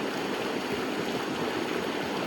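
Irrigation water for a sixth watering pours into a wheat field, a steady close rushing and gurgling flow that stays even throughout with no voices.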